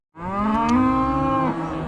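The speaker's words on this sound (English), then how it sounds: "as you may be able to hear and tell, we've got the cows up and caught" A beef cow rounded up in a pen gives one long, loud, close moo that holds steady before dropping off, with open farmyard air around it.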